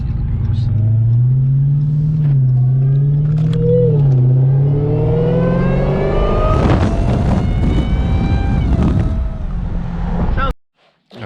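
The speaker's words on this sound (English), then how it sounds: "I'm gonna get ready to take off and show you guys how the supercharger sounds." Supercharged Chrysler 300 converted with a Hellcat engine, rumbling at low revs, then the pitch rises steeply as it accelerates away and grows louder before cutting off abruptly.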